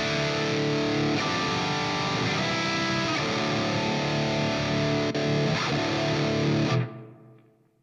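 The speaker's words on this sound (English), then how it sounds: "This amp is handling a distortion pedal really well." Heavily distorted electric guitar through a distortion pedal into a Fractal Audio Axe-Fx III amp, playing loud, sustained rock chords and riffs, cutting off abruptly near the end with a fading tail.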